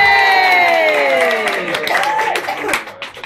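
A pub crowd at a live music night at the Miners Arms claps and cheers, with voices whooping in rising and falling tones over scattered clapping.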